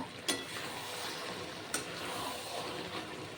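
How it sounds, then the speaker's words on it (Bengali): A pan of spinach cooked with fish head, nearly dry, gets stirred: a soft continuous frying sizzle with two sharp scraping clicks of the spoon, fairly faint and without talk. "জল অনেকটাই শুকিয়ে এসেছে, এবার নাড়াচাড়া করে নেব।"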